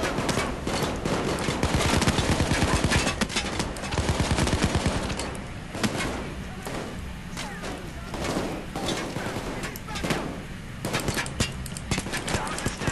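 Dense, continuous gunfire from Payday 2 during a bank robbery assault wave, sustained bursts of shots crackling loudly and nearly without pause throughout, with heavy low-end thumps beneath.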